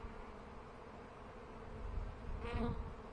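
Honeybee covered in pollen buzzes faintly near the hive, a soft continuous hum that swells briefly as it flies close.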